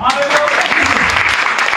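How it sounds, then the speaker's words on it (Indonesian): Audience applause from a church congregation during a sermon, a dense, loud wash of clapping filling the whole short stretch. "Kan kurang tepuk tangannya."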